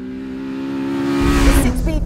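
A Mugen Honda Civic Type R exhaust climbs in a rising, harmonically rich engine note, swelling louder toward the end as VTEC engages at high revs, with a voice talking over it.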